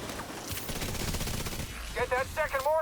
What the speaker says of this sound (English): Get that second mortar firing